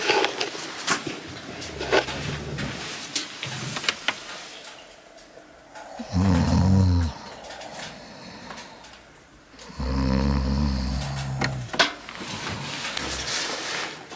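A man snores while asleep at a hunting camp during a moose hunt, two long, loud, deep rasping snores separated by quieter breathing, with faint ticking and shuffling in between.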